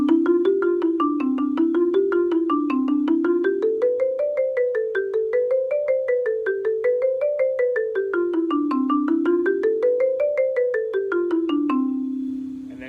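A marimba plays a scale exercise alone, single mallet notes stepping up and back down in a steady, even rhythm, repeated as the pattern climbs through several keys, close and clear with ringing decay.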